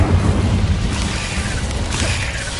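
A fire spell cast in the video game Hogwarts Legacy gives a loud, sustained roaring burst with crackling noise that stays steady for a few seconds and then thins slightly toward the end.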